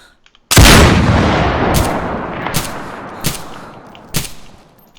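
Gunfire in DayZ: one loud close shot with a long echoing tail, then four sharper shots spaced under a second apart, each fading into a reverberant decay.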